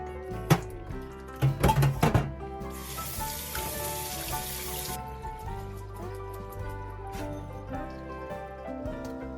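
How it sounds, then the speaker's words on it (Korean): Cold water runs over cooked udon noodles in a strainer, a steady splashing wash with a few sharp knocks and clatters near the start, with no voices. "면이 다 삶아지면 체에 맞춰 찬물로 씻어주세요."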